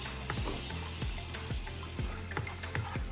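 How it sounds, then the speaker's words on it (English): Garlic sizzles in butter in a frying pan, a steady close hiss with repeated soft scraping strokes of stirring at a regular rhythm. "Garlic right in there with our butter."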